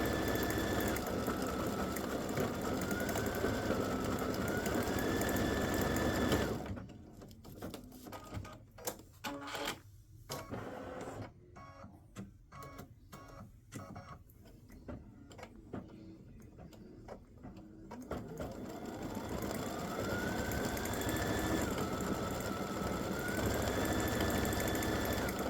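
An embroidery machine stitches a purple patch in a steady, rapid mechanical chatter that drops away in the middle to a sparse stretch of clicks and thumps, then resumes at full pace near the end.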